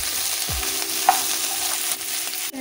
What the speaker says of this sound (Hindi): कढ़ाई में लेंगे थोड़ा सा तेल और अपनी भिंडी को सैलो फ्राई करेंगे